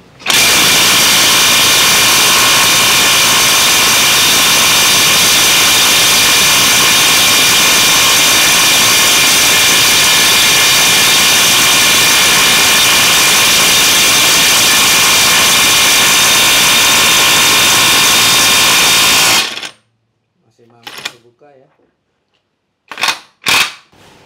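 A GTOOLS GT05 impact wrench set to 600 Nm hammers on a 41 bolt, a very loud, continuous rattling blast lasting about twenty seconds before cutting off, followed by a few short bursts.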